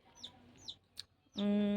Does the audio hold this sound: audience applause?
no